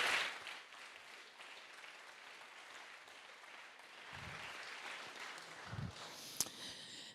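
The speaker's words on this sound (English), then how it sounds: "huge applause to all of you who made that happen" Audience applause at the Kickstart Innovation opening ceremony 2022, a faint, steady patter of clapping from a crowd heard at a distance, tapering off toward the end.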